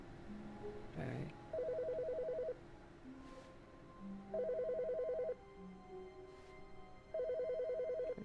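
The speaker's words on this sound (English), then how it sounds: "The phone's right there. It's ringing." A telephone rings in the video game The Stanley Parable, repeated electronic ring bursts of about a second each at a steady interval, clear and close, with quieter game sounds between the rings.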